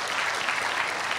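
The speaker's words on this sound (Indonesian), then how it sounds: "Tepuk tangan buat Tuhan Yesus." A congregation applauding during a morning prayer service at church, steady dense clapping filling the room for its full length, loud and close.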